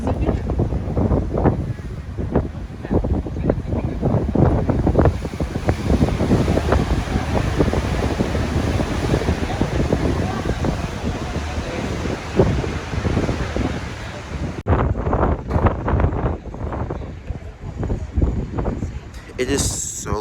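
Wind gusting outdoors by Île Saint-Louis in Paris on a very cold day, a loud steady buffeting roar over the microphone, with voices mixed in throughout and a brief lull near the end.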